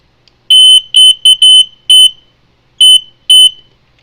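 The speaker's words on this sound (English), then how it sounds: "Not too many battery-powered ones use a continuous alarm like that." A Servis battery-powered smoke detector sounds its alarm in loud, piercing electronic tones, delivered as a string of short bursts with uneven gaps and no other sound around them.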